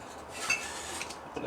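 Chopped mushrooms and parsley scraped off a board into a soup pot, a steady close rasp of a blade with light clinks of metal, no voices over it.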